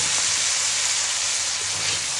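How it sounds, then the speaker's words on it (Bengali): Ground spices with ginger and garlic paste being sautéed in a pan, a steady dense sizzle and crackle of frying that holds evenly and close throughout. "কষাচ্ছি, এখন হয়ে গেছে কষানো"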